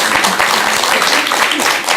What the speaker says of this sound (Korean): 스님께서 또 박수 한번 정확하게 주세요.